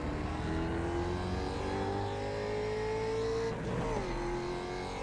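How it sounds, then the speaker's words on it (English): A race car in the iRacing sim at Laguna Seca holds a steady engine drone while its tires emit a rising, whining jet-like tone through a turn, briefly dipping before the whine resumes, with no voice present. "the tires are making that jet engine sound through that turn"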